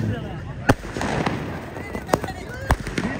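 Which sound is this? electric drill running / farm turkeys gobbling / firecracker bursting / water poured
firecracker bursting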